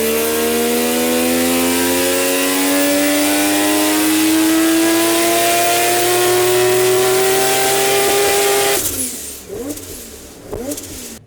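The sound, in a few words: Mazda 20B rotary Corvette revving on dyno in sixth gear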